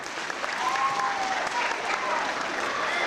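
An audience at a school district D.A.R.E. graduation gives a round of applause, a dense, steady clapping that fills the room and carries on for the whole stretch without letup.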